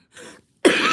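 A person with COPD coughs twice in quick succession, a short soft cough followed by a louder, harsher one, close up and with no talk.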